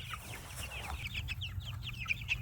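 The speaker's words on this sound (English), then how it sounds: "It is wonderful to see chickens out doing what they would have done in the wild." Pastured chickens in chicken tractors clucking and chirping softly in quick, scattered bursts, faint and at a little distance, over a low rumbling background.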